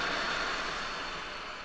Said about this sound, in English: Drive the tractor away, and the aircraft are ready for takeoff.